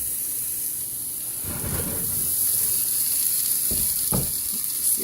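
Onions hit hot avocado oil in a pan, giving a steady, bright sizzling hiss throughout, with a few soft knocks and stirring sounds, close by and without talk.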